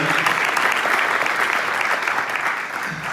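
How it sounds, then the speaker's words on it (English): Audience applause for event volunteers, a dense, steady wash of many clapping hands that holds loud throughout and eases slightly near the end. "Round of applause for the MIC and the SBM."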